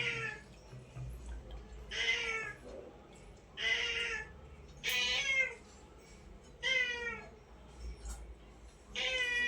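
A cat meows repeatedly nearby, six or seven distinct drawn-out cries spaced about a second apart over a quiet room background with faint low rumble.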